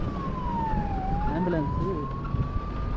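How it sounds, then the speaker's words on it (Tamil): An ambulance siren wails on a high mountain pass road toward Srinagar, one steady rising and falling tone sweeping past close by over constant road and engine rumble, with a voice talking underneath. "ஆம்புலன்ஸு."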